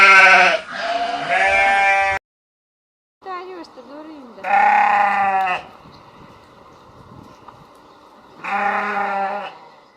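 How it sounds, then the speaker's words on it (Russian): A ram in a children's cartoon about farm animals bleats in three loud, wavering calls separated by pauses, the first call broken into two parts, with a low murmur between them. "Баран."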